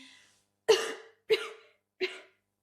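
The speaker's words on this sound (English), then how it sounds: "I tried to greet him, but broke into a cough." Three sharp coughs in a row, close and fairly loud, each with a short raspy tail and brief pauses between them.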